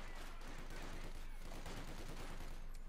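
Sustained MG42 machine gun fire in Company of Heroes 2, a dense, continuous rattle of rapid shots with battlefield noise that runs steadily through the whole stretch without pause.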